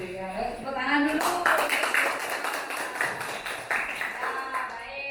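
A class of students claps hands in a room, a dense run of broadband claps building after the first second and holding steady, with voices talking underneath throughout.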